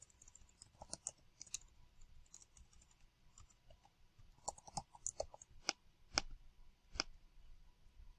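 A standard deviation formula is typed into a spreadsheet on a computer keyboard: sparse, faint keystroke clicks in small irregular clusters over a quiet background.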